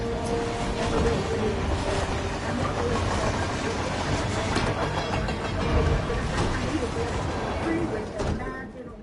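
A train rolling along its rails, a steady rumbling wash of wheel and carriage noise that holds for the whole stretch, loud and close, with no pause or break.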